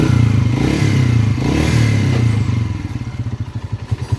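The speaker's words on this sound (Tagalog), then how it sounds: "Pati ito, medyo maingay na rin. SR125 to na bossing." A noisy, worn SR125 motorcycle engine runs steadily up close on a workshop bench, its low drone giving way to a pulsing, clattering idle near the end, with no talking over it.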